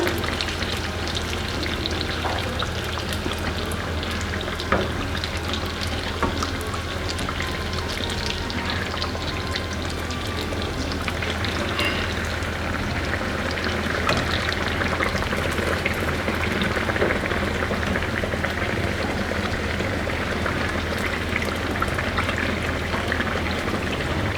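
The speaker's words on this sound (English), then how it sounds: "So you keep going on till you finish frying all your mahamris." Steady crackling and sizzling of mahamri (East African fried dough) frying in hot oil, continuous and fairly loud throughout with no talking.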